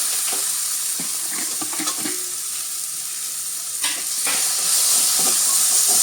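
Mango pieces coated with asafoetida, salt and turmeric drop into a hot pan just taken off the heat and sizzle steadily while a spoon scrapes and stirs in bursts, the hiss swelling toward the end.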